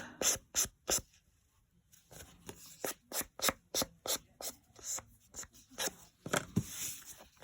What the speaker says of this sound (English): the nail file will work just as well